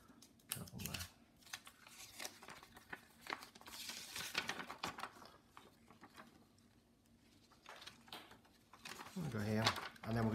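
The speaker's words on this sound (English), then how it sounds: "we're gonna inverse fold onto there. So I'll just squash it through the same around" Paper being folded and creased into an origami Sierpinski model, giving soft crinkling, scraping and patting sounds close by, with the folder talking intermittently over the handling noise.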